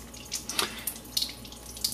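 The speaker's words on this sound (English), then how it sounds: "And the water comes out of this stainless steel hose." Alkaline water at pH 11 pours from the stainless steel outlet hose of a Lydia 8090 Platinum water ionizer. It makes a soft, steady trickling splash, fairly quiet, with small irregular bursts and no voices.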